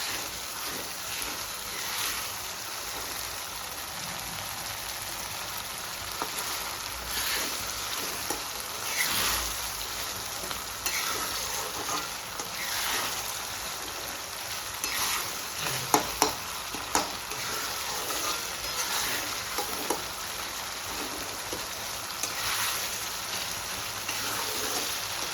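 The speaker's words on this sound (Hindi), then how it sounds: "टमाटर अदरक लहसुन के पेस्ट को हमें अच्छे से भून लेना है" Tomato, ginger and garlic paste frying for prawn masala, giving a steady close sizzle and crackle with occasional stirring scrapes and small pops throughout.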